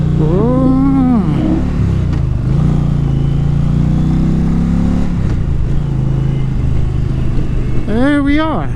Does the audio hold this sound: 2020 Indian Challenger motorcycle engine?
yes